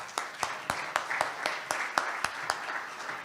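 An event audience gives a round of applause, a moderate crowd clapping with one or two sharp, regularly spaced claps standing out above the softer patter.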